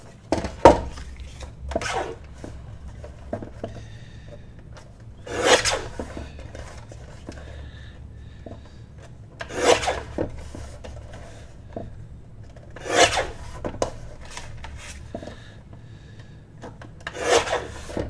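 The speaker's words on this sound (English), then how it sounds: "let's just go ahead and cut this across here" A 12x12 paper sheet being cut across with a few slow, rasping strokes that come in roughly evenly spaced bursts, close and clear with no talk.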